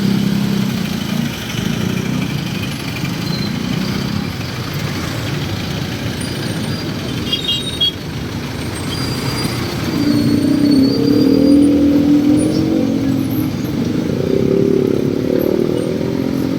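Street traffic near a plaza in Santa Rosa City, with cars and motorcycles idling and revving close by and a steady engine drone that swells louder in the second half.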